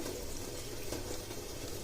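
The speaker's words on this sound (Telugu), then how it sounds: "ఆ తర్వాత ఇందులో కొద్దిగా వాటర్ వేసుకుందాము" Water poured into a batter of soaked lentils, green coriander and salt, a steady soft splashing trickle that runs unbroken at low volume, close by, with no talk over it.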